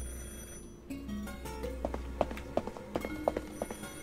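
Telephone ringing in the video game Beholder 3, a string of repeated bell-like tones that comes in after a low background hum and keeps a steady ringing rhythm, fairly faint.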